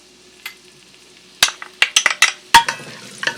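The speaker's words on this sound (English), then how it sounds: "as my oil is heating up, I'm going to add my onions to it" Red onions hitting hot vegetable oil in a pan, with a string of sharp sizzles and clinks of a utensil against the pan after a quiet start, close and fairly loud.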